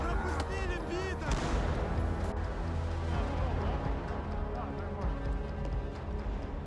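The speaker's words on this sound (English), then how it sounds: "Grenades and gunfire." Dense, chaotic trench battle noise in Kreminna Forest, with sharp grenade bursts, gunfire and booms layered over shouting voices, continuous and loud throughout.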